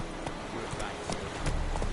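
Roach, the horse from The Witcher 3, gallops with rapid, irregular hoofbeats in a steady, close run, mixed with game ambience and a voice speaking briefly over it.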